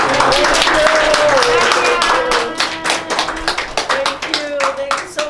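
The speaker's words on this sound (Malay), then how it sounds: "Okey, tepuk tangan ramai-ramai satu." Audience clapping hands together at a silver jubilee logo launch ceremony, brisk rhythmic claps that start loud and thin out toward the end, with a voice speaking over them.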